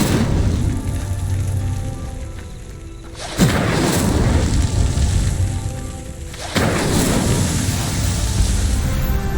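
Incendio fire spell cast in the Hogwarts Legacy video game, heard as two sudden rumbling bursts of flame that roar over a dense, crackling background before fading back.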